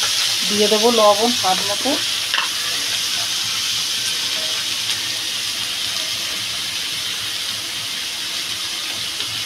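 Kushi sizzles loudly and steadily in hot oil, a dense frying hiss that runs throughout while someone speaks briefly at the start.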